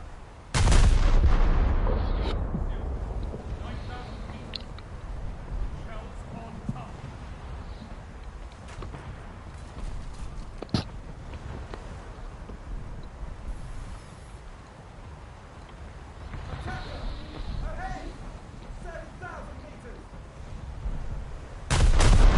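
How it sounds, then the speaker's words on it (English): Naval gun salvo fired from a ship in the War Thunder game, a heavy booming blast at the start with a long rumbling tail and another burst at the end, with someone talking in between. "We'll give him one more salvo, and then we'll switch up to the next target."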